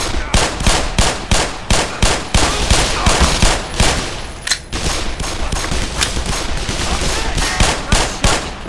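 Dense bursts of automatic gunfire from the shooter game Black Mesa, set in alien research labs, rattle on for the whole stretch in loud, rapid volleys with short pauses between them.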